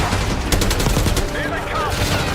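Rapid bursts of automatic gunfire and scattered shots crackle through a battle in Call of Duty Black Ops 6, dense and continuous over about two seconds with faint background voices.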